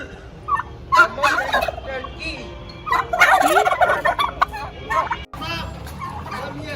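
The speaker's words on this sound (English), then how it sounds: "these are turkey" Several turkeys gobble loudly and repeatedly, their warbling calls overlapping close by, with other fowl clucking in the background.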